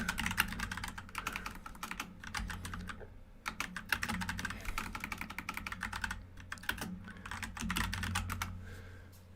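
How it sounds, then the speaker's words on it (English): Quick bursts of typing on a computer keyboard, close and fairly quiet, with rapid key clicks in several runs broken by short pauses. "I need to type this in."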